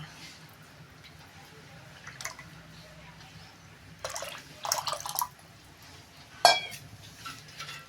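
Whisked buttermilk is poured into ragi ambil in a vessel, making soft liquid splashes and drips along with a few utensil clinks. A person speaks quietly in the background.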